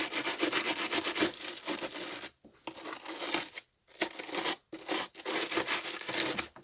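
Small brush scrubbing softened glue off a car headlight housing, rapid raspy back-and-forth strokes in close bursts with brief pauses between them.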